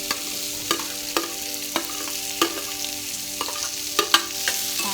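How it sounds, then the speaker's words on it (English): Green chilies sautéing in hot oil for ivy gourd chutney, a steady close sizzle punctuated by regular clinks and scrapes of a spatula against the pan, with no talk. "You can smell the spice which it oozes out when we are sauteing it in oil."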